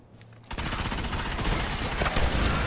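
The Necrochasm exotic auto rifle in Destiny fires in one sustained burst at full rate, a dense rapid rattle of shots, loud and close after a brief quiet moment.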